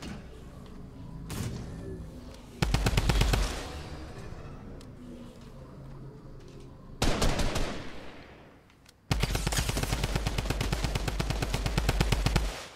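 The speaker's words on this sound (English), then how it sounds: "the drum gun just destroyed him" Drum gun fire in Fortnite comes in three long rapid bursts, loud and close, separated by quieter game ambience.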